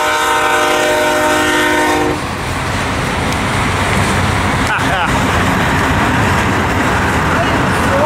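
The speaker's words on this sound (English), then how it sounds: "Oh, it's the ethanol train" A loud train horn blasts for a couple of seconds, then an ethanol freight train rumbles and clatters steadily past, close by, at Cajon Pass.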